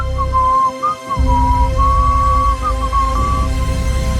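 A person whistles a wavering tune in a few short phrases, close and clear over a low steady hum, with brief pauses between the notes.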